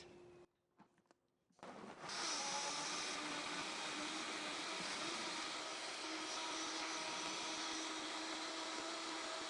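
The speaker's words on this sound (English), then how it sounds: "And we are ready to blend." A Vitamix blender purees an oil-free orange salad dressing made with freshly squeezed oranges, seeds and vegetables. After a few brief clicks it roars up to a loud, steady whir that holds to the end.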